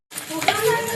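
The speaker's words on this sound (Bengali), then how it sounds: "ভেজে নিচ্ছে মশলাটাকে" Spice masala with cumin and chili powder frying in a pan, a steady close sizzle with stirring scrapes throughout the second.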